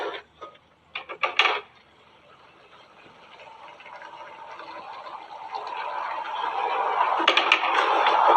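Onions being stirred into a pot of lentil curry, with a few scraping clinks early on and then a steady, growing rasping sound of the mixing that runs to the end, close and moderately loud.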